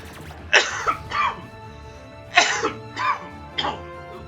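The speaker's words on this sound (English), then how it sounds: "my cough drop ran out, and it's causing me problems" Five short, harsh coughs in an uneven rhythm from one person at close range, each a sharp burst with brief pauses between, no words spoken.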